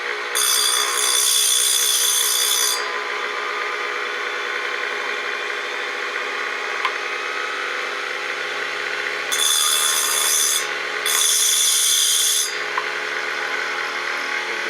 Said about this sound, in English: We grind very fast, so we need to be careful not to over-grind them.